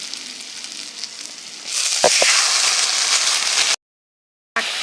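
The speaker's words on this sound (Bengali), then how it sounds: "শুকনো লঙ্কা চেরা পেঁয়াজটা লাল লাল করে ভেজে নিয়েছি এইবার পাট শাকটা দিয়ে দেবো" Jute leaves dropped into hot oil with browned sliced onions and dried red chili, a steady bright frying sizzle that swells louder as the greens go in, with a couple of clunks before a brief cutout.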